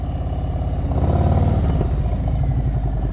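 A motorcycle pulls away in first gear during slow-speed practice, its engine a steady close rumble that swells slightly as it moves off, with no talk over it.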